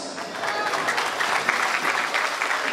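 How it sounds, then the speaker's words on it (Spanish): Steady applause from an audience at a danzón marimba performance, dense clapping at an even level throughout, fairly close and loud. "Fuertes los aplausos, por favor."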